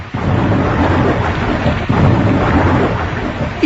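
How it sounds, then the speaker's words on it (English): A thunderstorm with heavy rain roars steadily and loudly, while thunder rumbles low beneath the downpour and a sharper crack breaks in about halfway through. "it started to rain and lighten and thunder in a very dreadful manner"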